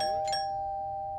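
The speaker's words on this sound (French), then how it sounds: "La sonnette? Encore?" A doorbell chimes once, a clear ringing tone that lingers and slowly fades.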